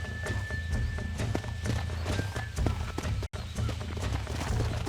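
Horse hooves clip-clopping steadily in Red Dead Redemption, a regular close rhythm of hoof strikes over a low rumble of movement, with a brief cut partway through and faint voices and a snort or whinny mixed in.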